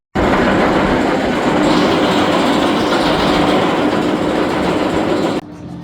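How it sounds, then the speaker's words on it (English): Swarm, a B&M winged roller coaster at Thorpe Park, gives a loud, steady rushing roar of wheels on track for about five seconds before dropping abruptly to a quieter rumble near the end. "a great ride on the Swarm, the B&M winged coaster"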